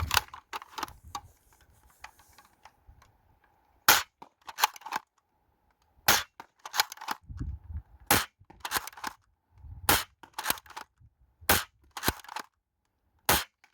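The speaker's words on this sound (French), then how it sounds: "le blaster de base tire un peu à droite" A toy dart blaster fires roughly a dozen sharp, loud shots at irregular intervals, each a crisp snapping pop with a short rattle after it, separated by near silence and a little faint handling noise.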